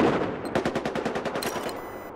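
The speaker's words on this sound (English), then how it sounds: "Whoa, we're getting sniped at." Rapid gunfire crackles in the Battlefield shooter, a quick burst of about a dozen evenly spaced shots over roughly a second, moderately loud against game background noise, with no talk.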